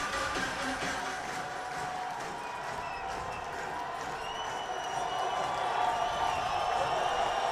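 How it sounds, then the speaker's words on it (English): Steady stadium crowd roar from the NCAA Football 2025 video game during a Georgia State at Coastal Carolina college football matchup, a continuous broad din of cheering that swells slightly toward the end, with no commentary over it. "Here comes the crowd."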